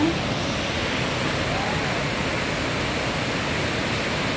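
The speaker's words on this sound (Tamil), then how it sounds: "இந்த அருவியில் சத்தத்தில் கேட்கவே கேட்காதுங்க." Hogenakkal waterfall thunders in a steady, dense roar of falling water, loud and unbroken from start to finish.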